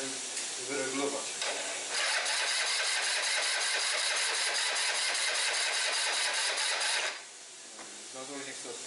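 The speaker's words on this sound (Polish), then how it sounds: "Teraz uruchomię silnik i zademonstruję wam, jak wygląda sprawa, jak ten silnik nieprawidłowo teraz działa" A Zipp Simply 70cc scooter engine with a badly adjusted carburetor cranks and catches, then runs loud and steady at a high, rough pitch for about five seconds before cutting out abruptly, with faint voices just before and after.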